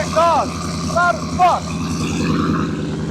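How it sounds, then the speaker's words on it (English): Loud exhaust rumble of an ESS supercharged Ford F-150 pickup, a steady low drone running throughout, with brief voice-like bursts partly over it. "You hear the exhaust?"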